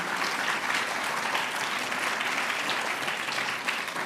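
Dense, sustained applause from a large crowd at a national student science showcase, even and continuous with no breaks across the whole stretch.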